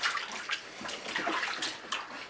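Water splashing gently in a small tub while a newborn baby is bathed, soft close sloshes and trickles in quick irregular bursts.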